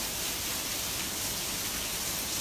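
Rain falling in a downpour where people are playing outdoors, an even, dense hiss of drops filling the whole moment without a break.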